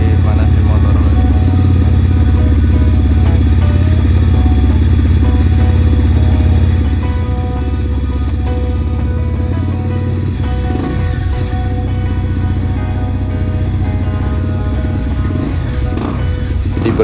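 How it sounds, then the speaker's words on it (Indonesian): A motorcycle engine is being warmed up at idle in the morning before a ride, a steady low rumble that runs throughout, loud and close, with a slight drop in level partway through and no clear talking over it. "jadi manasin motor dulu nih"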